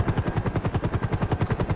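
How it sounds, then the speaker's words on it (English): Helicopter flight in GTA V, a fast, even rotor chop pulsing steadily and fairly close, with no voices. "when he flies helicopters, he goes into it in first person because he's actually training as a pilot."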